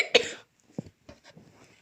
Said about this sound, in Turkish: Nasıl öksürüyorum yavrum ya.